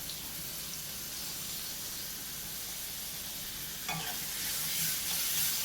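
Chopped onion sautés in a pan for a bitter gourd masala fry, a steady soft sizzle with occasional stirring that grows slightly louder near the end, close and without talk.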